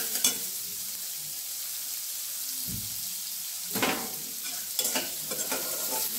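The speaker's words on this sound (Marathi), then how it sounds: "आता कांदा छान परतून घेते तेलामध्ये।" Onion and green chillies stirred in hot oil in a pan for kande pohe, a steady soft sizzle broken by a few scraping stirs and clinks of the spoon, close by with no talk.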